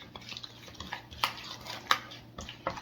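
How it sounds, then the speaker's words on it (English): Wet banana bread pudding muffin ingredients with brown sugar stirred in a bowl, a utensil scraping and clinking against the sides in irregular knocks, up close with no talking. "I'm just gonna stir it. I'm putting the wet ingredients together basically"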